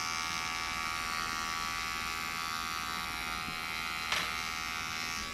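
A MicroTouch Titanium Trim electric hair trimmer hums in a steady, fairly quiet high-pitched buzz throughout, with one brief louder click or contact near the end.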